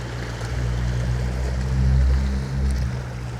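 Ocean waves roll in a steady low broadband wash with a deeper surge swelling near the middle, continuous and fairly loud with no voices.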